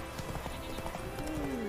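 Horse hooves clip-clop in The Witcher 3 video game, a quick steady trot of hoofbeats close by, with a faint neigh-like tone near the end.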